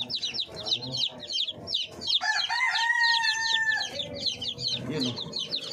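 Newly hatched chicks in a lit brooder on a Filipino backyard farm, peeping in rapid, high, repeated chirps that run nearly nonstop, with a steadier tonal call partway through.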